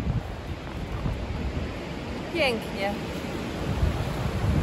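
Wind blowing across a mountain hiking trail near Brenna, a steady rushing roar with buffeting against the microphone throughout and one brief spoken word midway.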